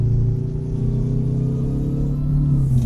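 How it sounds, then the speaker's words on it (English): Peterbilt 281/351 truck engine in American Truck Simulator with a mod, revving steadily: a loud, continuous low rumble that holds its pitch with little variation, heard alone without voices. "You can rev that right out."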